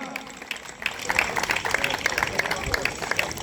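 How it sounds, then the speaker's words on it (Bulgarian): Applause for a third-place finisher in men's mountain running at a municipal sports awards ceremony, scattered, uneven clapping that starts softly and builds into quick distinct claps, with some voices in the background. "Бързо, силни аплодисменти за Йордан."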